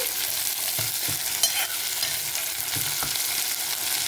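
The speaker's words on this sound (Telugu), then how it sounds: "ఆనియన్స్, పచ్చిమిర్చి. సో బాగా కొంచెం ఆనియన్స్ ఫ్రై అవ్వాలండి." Onions and green chillies fry in a pan with a steady, close sizzle and occasional stirring scrapes, with no talking over it.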